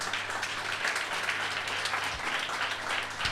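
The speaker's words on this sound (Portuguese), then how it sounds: "Aplauda a Jesus." A church congregation applauds in a sustained, moderately distant wash of clapping with a faint low hum underneath.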